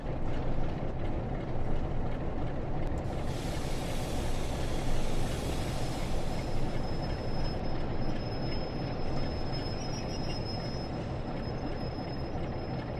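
A Pacer diesel train rushes past in the Train Sim World game, a steady loud rail roar with rolling wheel noise and a thin high squeal, with no talking.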